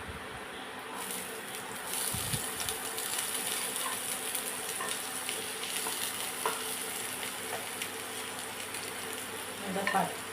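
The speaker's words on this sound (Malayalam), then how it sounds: "ചൂടായിക്കൊണ്ടിരിക്കുന്ന എണ്ണയിലേക്ക് ആദ്യം തന്നെ സവാള ചെറുതായിട്ട് അരിഞ്ഞു വെച്ചിരിക്കുന്നത്" Finely chopped onion going into heating oil sizzles with a soft, steady frying hiss, broken by scraping stirs in the pan and a louder burst near the end.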